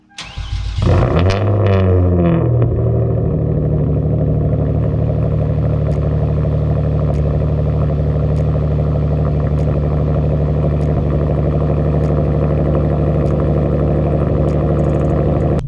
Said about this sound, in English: I'm gonna give you guys a cold start, because this is the first time my car has been started in 3 days